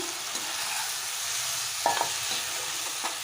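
Roasted eggplant goes into a frying pan and gets stirred, bringing a low oily sizzle under a few soft scrapes and clacks from the spoon, all close up and with no voices.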